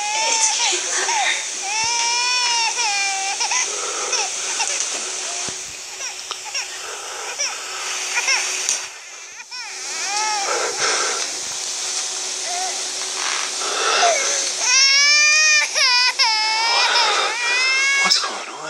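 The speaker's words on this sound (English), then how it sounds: "Someone is crying in her nursery." In a horror video game, a baby wails in a nursery, with loud, wavering cries that come in repeated bursts across the scene and grow most intense toward the end.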